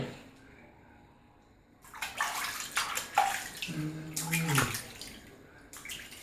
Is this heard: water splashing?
yes